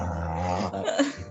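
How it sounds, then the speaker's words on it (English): A dog growls low and then whimpers and yips, a close, short run of uneasy canine sounds with no talking. "I'm sorry, I have dog noises"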